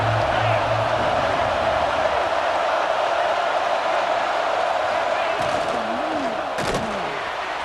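A stadium crowd roars steadily throughout a College Football 26 video game match between Alabama and Ohio State. The loud, continuous din carries a few thuds and a faint call near the end.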